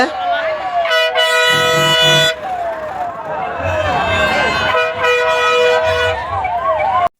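Fire engines following the festival chariot at Antarvedi in 2025 blast a loud, sustained horn in long bursts, mixed with wailing siren sweeps, close by and over a busy crowd.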